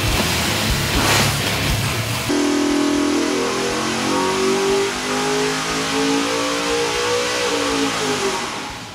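A Ford Windsor V8 fitted with Trick and Mansueto CNC alloy cylinder heads pulls hard on a dyno, its loud steady roar climbing in pitch through a sustained run before easing off at the end.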